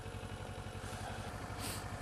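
A motorbike idles steadily on a London street, its low engine pulse continuous and moderately loud throughout with no voices.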